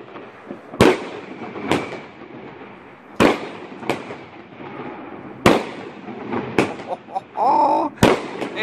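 A 48mm firework battery fired on New Year's Eve in a city block, several sharp loud shell bursts spaced a second or two apart, echoing, with people talking and shouting between blasts.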